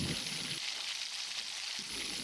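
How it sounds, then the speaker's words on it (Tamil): Steady crackling sizzle of mustard seeds popping in hot oil, close and continuous, with a dense hissing spatter throughout. "ஆயில் சூடானதும் ஒரு ஸ்பூன் கடுகு சேர்த்துக்கலாம் கடுகு நல்லா பொரியணும்"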